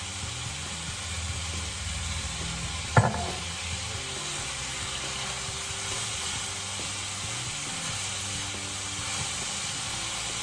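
Vegetables and tomatoes sizzle steadily in olive oil for a chickpea penne sauce, a continuous close frying hiss with one brief clink partway through, no talking.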